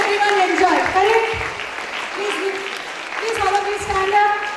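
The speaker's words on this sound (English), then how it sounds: "Please give him a huge round of applause." Audience applause at a school National Librarian Day event, a steady wash of clapping running the full length alongside sustained tonal music or voices.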